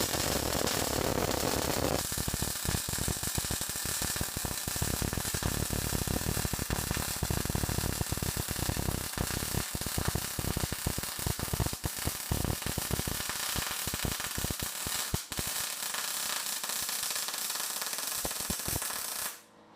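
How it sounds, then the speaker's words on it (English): MIG welding with solid wire and external shielding gas indoors, a straight single pass at the highest heat setting: a steady, loud, close crackling sizzle lasting nearly the whole stretch, with scattered pops, cutting off abruptly at the end. "I'm going to do the first pass with the solid welding wire and the external shielding gas."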